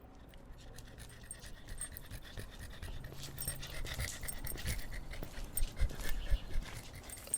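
A dog pants steadily and close by on a night outdoors near a large rock, with soft rustling and scratching underneath and the breathing growing a little louder toward the end.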